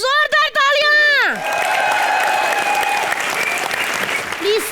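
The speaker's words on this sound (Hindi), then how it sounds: "एक बार जोरदार तालियां" Loud studio audience applause at a live Hindi comedy show, a dense steady wash of clapping that follows a host's harmonic vocal outburst and runs for several seconds before fading, with a brief voice near the end.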